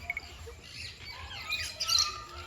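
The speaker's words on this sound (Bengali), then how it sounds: "এখানে রয়েছে হলুদ টিয়া এটা হলুদ আর এটা হচ্ছে দেশি টিয়া" Shrill calls and chirps of yellow and native parrots ring out amid a soft, steady background of other birds, louder toward the end.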